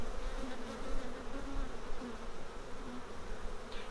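Honey bees drone steadily at an open hive during a beekeeping inspection, a continuous close, low buzzing hum.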